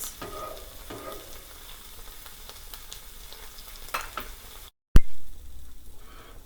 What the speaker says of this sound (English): I'm going to make the scrambled eggs on medium to low heat